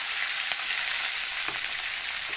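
Greens frying in oil with onion, green chili and garlic, a loud continuous hiss and crackle of sizzling with a few faint utensil taps, close and steady, no talking.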